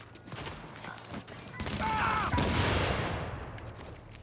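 Video game gunfire aimed at the player rattles in bursts, swelling into a louder barrage midway and fading at the end, with a voice talking over it.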